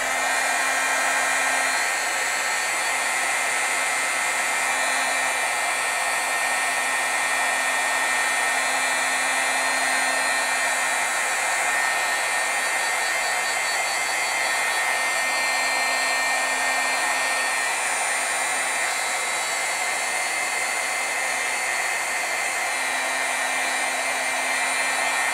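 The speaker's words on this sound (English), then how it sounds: "let's heat set this and move on" A heat tool blows continuously for about 25 seconds while heat-setting stamped ink, a steady close whooshing hum with a faint motor drone that never stops.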